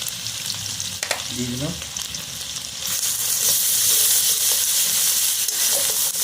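Onion, ginger and garlic paste fries in a pan for a butter prawn dish, with a soft sizzle and brief stirring that swells into a loud, steady hiss. A voice speaks briefly.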